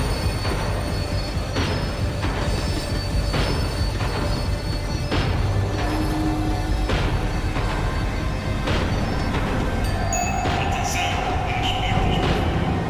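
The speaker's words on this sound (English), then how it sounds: "The tram was slowing down" A tram in the video game Max Payne 3 slows down with a steady heavy rumble of wheels on rails, rhythmic clacks and a late metallic squeal; speech is heard over the rolling noise.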